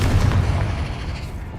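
A Confringo blasting spell explodes in the Hogwarts Legacy video game as a loud, deep boom that fades out over a second and a half, with no talk.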